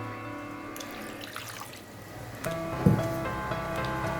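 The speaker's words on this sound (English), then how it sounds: "I am going to add the bones, tamarind solution," Tamarind solution and chicken bones go into a clay pot: splashing pours and wet plops, with a brief louder splash partway through, heard close and alone.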